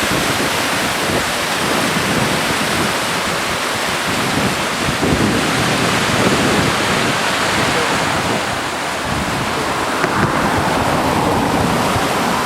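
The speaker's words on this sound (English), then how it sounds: "More of the Yakima River." The flooding Yakima River rushes in a loud, constant roar of churning water, broadband and unbroken for over twelve seconds, with gusts of wind buffeting the microphone.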